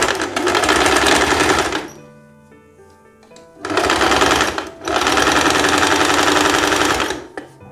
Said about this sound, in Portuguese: A gente vem pra fazer a nossa outra costura aqui do lastex.